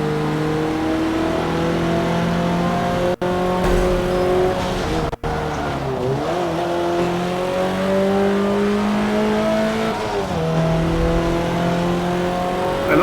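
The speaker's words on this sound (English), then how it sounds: "Listen to that. That's a really cool car." A 2013 Hyundai car in a racing video game, its engine droning loudly and steadily, rising and falling in pitch through repeated revs and gear changes, with two brief cuts in the sound.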